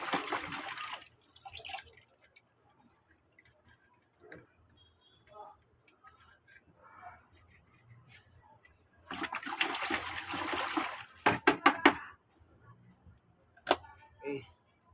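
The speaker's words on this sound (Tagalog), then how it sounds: "Babalawan natin ito sa may tubig." Filter rinsed under running water, with broad splashing bursts at the start and a longer stretch near the end, a few sharp clicks and quieter handling between.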